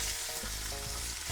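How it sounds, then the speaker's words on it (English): Food sizzles loudly in a hot pan at the seaside town of Saltburn-by-the-Sea, a steady close crackling hiss throughout with no talking. "I hope you can hear all the sizzling."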